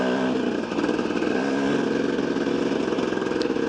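A KTM 250 EXC enduro motorcycle buzzes steadily along dirt trails, its engine note holding a close, even drone with small rises in revs, alone and without talk.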